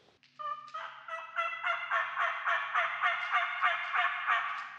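A wild turkey gobbles loudly, a rapid rattling burst that repeats in quick pulses, clear and fairly close, responding to hen yelp calls.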